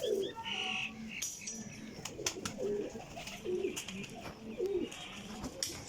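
A champion pathiya high-flying pigeon coos in soft, repeated low bursts at a moderate distance, several calls spaced over a few seconds with light clicks and shuffling around them.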